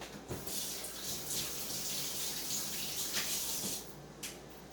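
Water running from a kitchen tap while pork spareribs are being cooked, a steady close hiss of flowing water with a few brief splashes and clatters, no voices.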